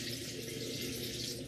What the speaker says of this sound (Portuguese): Colocar o resto da água.